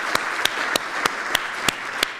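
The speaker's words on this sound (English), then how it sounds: "Can you guys give them a round of applause" Applause from an audience at a sports talk, a steady faint wash of clapping with a few sharper claps standing out at regular intervals.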